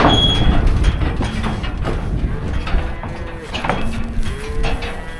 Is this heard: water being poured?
no